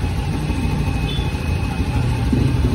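A Honda Scoopy scooter that sputters and misfires after a service runs at a steady close idle in a repair workshop, with a faint whine above it and no clear rise in revs.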